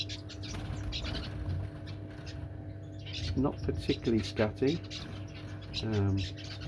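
Newly arrived pet parrots chatter and squawk in a shared cage indoors, giving several short harsh calls close by over a steady background hum, with a person speaking briefly.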